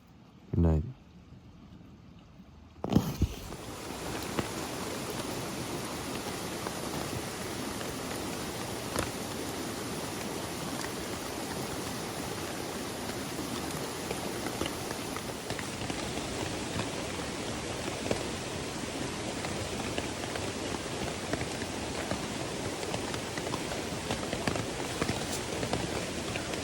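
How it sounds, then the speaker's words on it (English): Wind and rain sweep over a woodland wild camp beside a loud rushing river during a rainstorm, a dense steady roar that continues unbroken for the whole stretch after a brief quieter start. "it's pretty windy and the river's really loud now"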